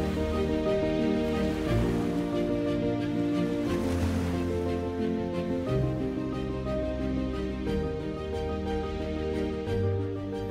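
Pacific Ocean waves at the mouth of the Los Angeles River, a steady rushing surf wash with swelling breaks, heard alone with no voices for about ten seconds.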